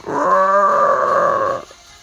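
A whale shark's loud, sustained moan as a storybook sound effect, one long tonal groan with a rough, growling edge that holds steady and then cuts off.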